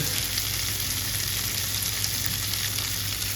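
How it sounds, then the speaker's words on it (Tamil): Fried mutton intestine curry being stirred in a pan with a steady, dense sizzle of frying that stays loud and even throughout, with no talking. "இப்போது ஆல்ரெடி நம்ம ஃப்ரை பண்ணி வச்சுருந்த குடல் கறியை வந்து இதில் போட்டு மிக்ஸ் பண்ணலாங்க"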